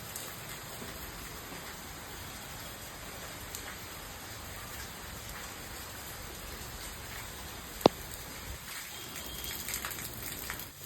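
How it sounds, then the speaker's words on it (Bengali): Steady rain falls outside a home during a storm, a constant soft hiss with no letup and one brief sharp knock partway through. "সেই দুটোর থেকে বৃষ্টি পড়ছে এখনও পড়ে যাচ্ছে"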